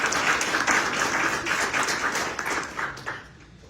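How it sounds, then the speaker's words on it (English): Crowd applause at a city's State of the City address, a close, lively burst of many hands clapping with audible individual claps, gradually fading away over the final second. "Will you join me in applauding?"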